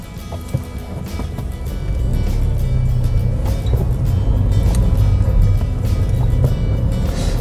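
A manual-transmission car in a Korean class 1 road driving test runs steadily through a left turn, its engine a low continuous rumble that swells after the first second and holds close and even, with no talk.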